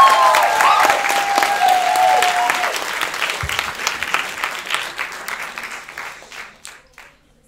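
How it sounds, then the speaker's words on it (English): Loud theatre audience applause and cheering at the final Dear Evan Hansen show, a whistle ringing out early on, the clapping thinning and fading away over several seconds. "I want you to give a giant round of applause to the very last show of Dear Evan"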